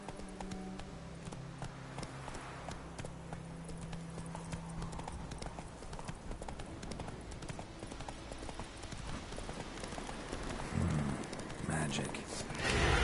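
Hooves of Roach, a horse in The Witcher 3, clip-clop at a steady pace amid game ambience, with a louder burst of activity near the end.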